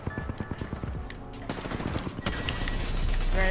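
Automatic gunfire in the video game Apex Legends: a quick rhythmic string of shots that builds into denser, louder continuous firing and explosions by the end.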